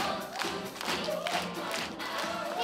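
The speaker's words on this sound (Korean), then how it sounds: "해피 바리스타 박정현 씨에게 박수 부탁드립니다." Audience clapping at a Korean community concert, a dense, fairly loud patter of many hands with faint crowd noise throughout, no talk over it.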